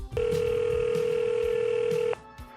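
Steady dial tone held for about two seconds on a recorded phone call, with low background rumble, then cutting off abruptly.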